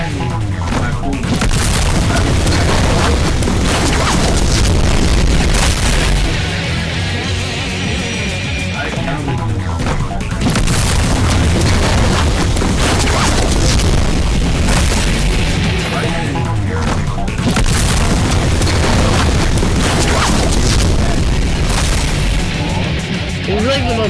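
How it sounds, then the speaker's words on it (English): Roblox airstrike explosions pound continuously as loud, dense, overlapping booms and blasts, with brief lulls, and a voice talking over them. "Airstrike inbound."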